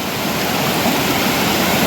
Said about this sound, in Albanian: Këto janë ujërat burimore natyrore të vjeshkëve shqiptare, të maleve shqiptare.